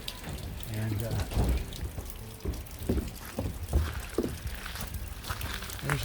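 Rain falls steadily across an outdoor courtyard in Luckenbach, Texas, a soft continuous patter with faint drips and a few scattered louder splashes, with a voice talking over it.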